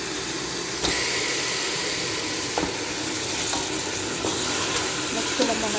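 Chicken pieces fry in hot oil with onion, garlic and ginger, giving a steady loud sizzle broken by a few stirring scrapes and clinks.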